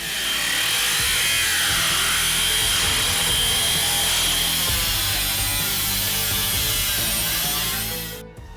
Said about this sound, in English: And we'll drill new holes, re-Cleco it,